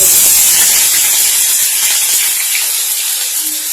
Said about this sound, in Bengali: পেঁয়াজটা দিয়ে দিলাম পেঁয়াজ অল্প একটু এরকম ভাজতে ভাজতেই